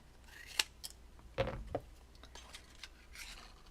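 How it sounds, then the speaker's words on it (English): Scissors snipping through paper at a crafting table, a few close, sharp cuts with a crisp chop near the middle and faint rustling between them. "I gotta cut this off."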